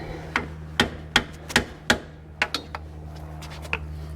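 A Snap-on screwdriver prying a leaky seal out of a 1970 Plymouth Cuda 440 Six Pack gives a series of sharp metallic taps and knocks, about ten distinct hits spaced irregularly over a low steady hum, close and fairly loud.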